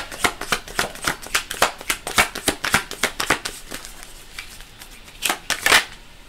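A deck of tarot cards is shuffled in quick, close, crisp riffles and flicks. The snaps come in a fairly even rhythm, with a couple of louder bursts near the end. There is no talking.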